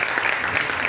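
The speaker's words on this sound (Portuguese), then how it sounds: "Salva de palmas para os nossos irmãos." A congregation at an outdoor Catholic Mass at Shalom in Parque Iracema, Maranguape, claps in a brief, steady burst of applause to welcome first-time visitors.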